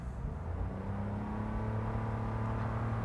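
A 2021 Toyota Yaris Hybrid with a CVT accelerates, heard from inside the cabin as a steady, droning engine and road hum that holds level throughout, with no talking.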